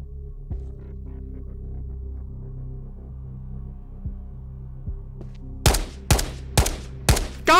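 Gunshots in the shooter game Ghosts of Tabor, several sharp loud reports fired in quick succession near the end, after soft thumps over a low humming background.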